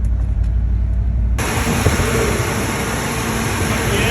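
Small engine idling steadily after a repair with the choke off, a broad rumbling drone that starts abruptly and then holds an even, continuous running tone.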